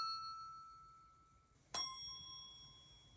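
Montessori bell struck once with a mallet, a sharp metallic ding that rings on with a clear, sustained tone, following the fading ring of an earlier bell in a quiet room.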